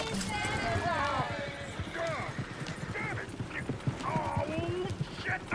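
Horse hooves clop in a quick, steady rhythm in Red Dead Redemption 2, close and continuous beneath voices speaking throughout, with faint neighs mixed in.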